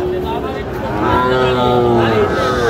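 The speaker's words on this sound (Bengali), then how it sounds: "শাহিওয়ালের ষাঁড় বাচ্চা আমরা দেখছিলাম এখানে" A Sahiwal bull calf lets out a long, loud, close moo that swells in strength and holds for nearly three seconds without a break.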